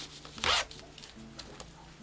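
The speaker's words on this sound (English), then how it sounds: "So now I got a zipper" A zipper on a sewn crossover mini bag is pulled once in a quick, close, rasping zip, then the room goes quiet apart from faint handling noises.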